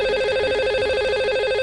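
Telephone ringing on a Hindi TV call-in show as a lucky caller is dialed, a loud, continuous electronic ring with a fast warbling trill, alone with no talk.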